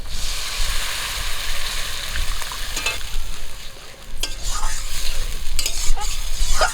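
Spice masala with salt and chilli powder fries in a pan for a Bengali rui fish curry after a splash of water, bubbling and sizzling with repeated stirring scrapes and spoon clinks close by.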